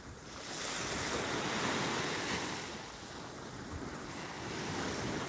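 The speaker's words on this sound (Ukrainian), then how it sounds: "біжу до того моря. А море від мене втікає." Sea waves wash onto the shore, a steady soft surf with gentle swells and light wind noise on the microphone, no voices.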